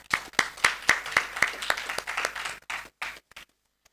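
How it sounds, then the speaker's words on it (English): Audience applause at the ICPC 2023 Asia Amritapuri regional programming contest ceremony, with sharp claps that start in a steady rhythm, then thin out into scattered claps and fade to silence over a few seconds. "You all deserve a big round of applause."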